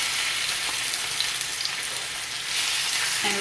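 Tilapia fillets frying in a pan, a bright continuous sizzle that stays loud and even throughout, with a faint clink near the end.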